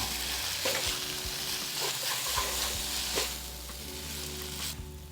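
Noodles sizzle loudly in a hot pan with beef and broccoli, a continuous frying hiss close up, broken by scraping stir strokes.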